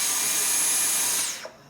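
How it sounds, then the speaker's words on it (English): Dyson V10 cordless vacuum cleaner with a new replacement battery running at a steady high-pitched whine, then powering down with a falling pitch and ending in a soft click. "our vacuum cleaner is working again."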